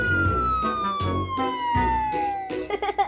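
A toy police car's siren wails in a steady electronic tone that slowly falls in pitch, loud and close over about three seconds, with small clicks and toy-handling noises around it.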